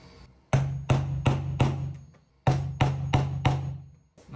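A hammer strikes a nail to punch drill points into a workpiece: eight sharp, loud metallic blows in two groups of four, each ringing briefly before the next.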